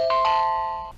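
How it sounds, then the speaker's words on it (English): A security camera doorbell gives a short electronic two-tone chime, clear and close, fading out within a second. "you can also make the camera just ring"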